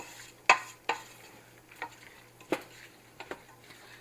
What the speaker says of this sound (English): Now we're going to get this stirred together.